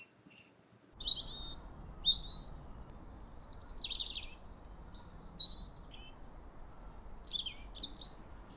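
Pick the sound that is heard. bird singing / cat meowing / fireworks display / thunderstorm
bird singing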